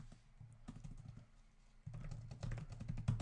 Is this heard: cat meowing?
no